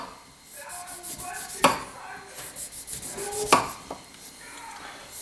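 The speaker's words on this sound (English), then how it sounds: "now I'm going to cut the end off and do some thin slices here." Kitchen knife slicing thin pieces of Alaska red salmon for an appetizer, with soft slicing strokes and two sharp knocks of the blade hitting the cutting board, close and fairly quiet.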